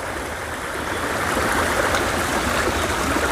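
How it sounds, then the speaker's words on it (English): Spring water pours out of rocks beside a hiking trail, a steady, close rushing flow like a small stream, continuous and fairly loud with no voices. "So here is another water flow that just comes out of the rocks."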